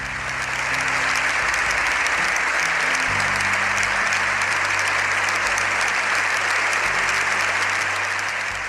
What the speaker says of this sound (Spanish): 7 minutos de aplauso en pie